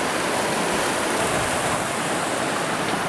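Drake Creek on a backcountry hiking trail, its water rushing in a steady, dense wash of noise, close and loud with no voices.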